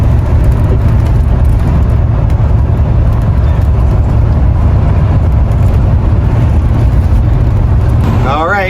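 An RV engine with a freshly replaced spark plug wire runs while driving, a loud, steady low drone with continuous road rumble and no letup.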